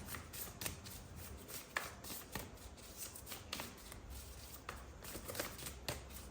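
Tarot cards riffle and slap together in repeated quick bursts, a brisk papery shuffle at close range with short pauses between passes and no talking.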